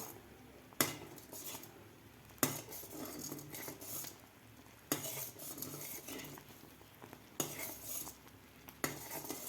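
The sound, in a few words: stirring jowar flour ambil in a pot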